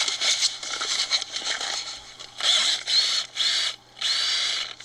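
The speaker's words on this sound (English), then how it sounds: "he goes back and drills another hole" A power drill bores a hole in repeated whirring bursts, several short runs followed by longer ones, loud and close with brief pauses between them.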